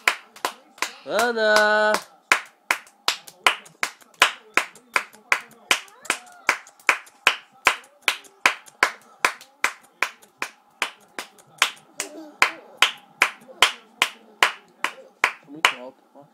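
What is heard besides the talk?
hands clapping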